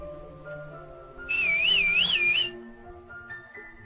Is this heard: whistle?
yes